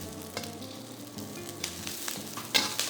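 Dry chilies, spring onion whites and Sichuan peppercorns fry in oil with garlic and ginger for Kung Pao chicken, giving a steady close sizzle with a few louder crackles and stirring scrapes.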